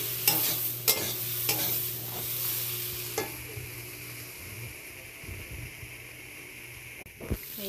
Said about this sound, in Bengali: মশলাগুলো ভেজে দেব।